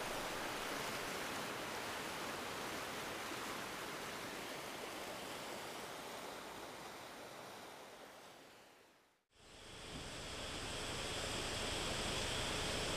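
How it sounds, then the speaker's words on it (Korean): Ojang Falls in Jeongseon, Korea's highest waterfall at 127 m, pours as a dense, steady roar of falling water that fills the scene, briefly cutting out before resuming just as strong. "정선군 북면 구절리에는 우리나라에서 가장 높은 오장폭포가 동양화처럼 걸려 있습니다"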